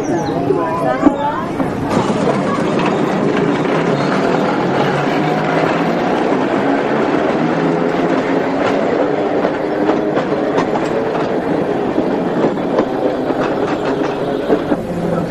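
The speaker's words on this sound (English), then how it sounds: "There are not many museums which you can ride around in a tram." A tram carries riders around a transport museum, giving a steady rolling rumble with faint clicking of wheels on the rails. A murmur of passenger voices runs underneath throughout.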